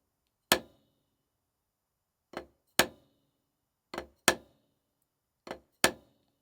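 Sharp drum strokes on a snare played as flams with an upstroke: a single hit, then three pairs of grace note and accented stroke, close and clean with no talking.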